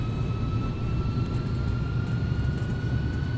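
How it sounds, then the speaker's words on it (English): Engines of an Airbus A300 freighter in the X-Plane 11 simulator spool up slowly for takeoff, a continuous loud roar with a steady whining tone over it and no voices. "I know we're used to the 737, like Toga, instant spool up. Not in this bad boy."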